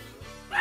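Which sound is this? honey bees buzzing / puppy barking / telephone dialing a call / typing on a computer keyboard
puppy barking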